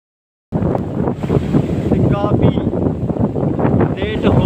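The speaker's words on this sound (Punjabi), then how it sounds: "ਬਹੁਤ ਜ਼ਿਆਦਾ ਤੇਜ਼ ਹਵਾ ਜਿਹੜੀ ਚੱਲ ਰਹੀ ਹੈ" Strong wind roars steadily into the microphone, a dense, buffeting rush that continues throughout after a brief silent start.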